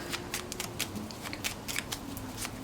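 Tarot cards are shuffled by hand, a steady stream of crisp, close riffling and sliding card snaps with quick irregular rhythm, with no voices.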